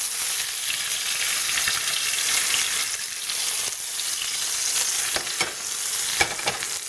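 Ostrich steaks frying in hot oil in a pan, a close, steady hiss and crackle of sizzling with occasional sharper pops and spits near the end.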